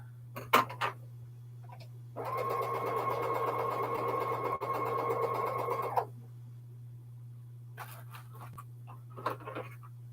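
A sewing machine stitches small fabric scraps together for quilting in one steady burst of rapid stitching for about four seconds, with quiet clicks and handling before and after.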